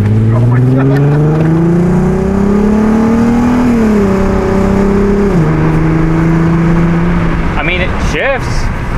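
A Nissan R32's engine revs with a steady rising and falling drone as its automatic gearbox shifts, with an audible step drop in pitch, loud and close throughout, before a brief voice near the end.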